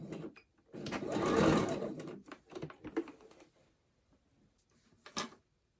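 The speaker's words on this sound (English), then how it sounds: "and sew across there" A sewing machine stitches across a simple tote bag in one sustained burst, then gives short start-stop runs and clicks, close and fairly loud.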